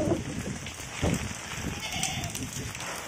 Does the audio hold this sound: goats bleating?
yes